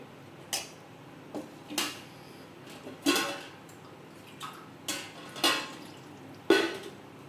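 A utensil stirring and tossing food in a pan with a little added water, giving sparse metallic clinks and scrapes about once a second, fairly faint and close, with no talking.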